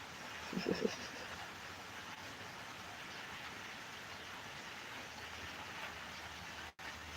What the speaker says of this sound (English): The rain is really just coming down steadily.